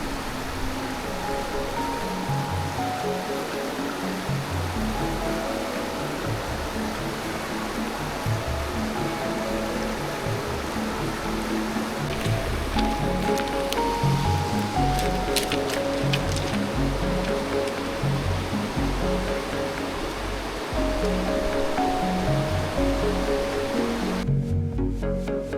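River water flowing steadily over stones in a hidden valley near Birir, Chitral, a continuous broad rushing wash heard close and alone for the whole stretch, with no talk over it.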